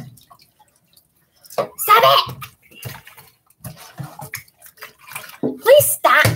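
Kittens being bathed in a tub make scattered water splashes and drips, broken up by bursts of a person's voice.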